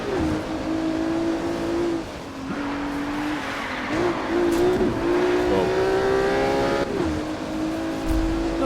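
A Ferrari Enzo engine in Need for Speed Rivals drones steadily at high revs, pitch dipping and rising through gear shifts, with faint tire squeals, loud and continuous, no talking.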